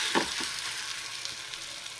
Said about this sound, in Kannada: ಹೆಂಚು ಬಿಸಿ ಆಗಿದೆ. ಈಗ ರೊಟ್ಟಿ ಹಾಕ್ಕೊಳ್ಳೋಣ.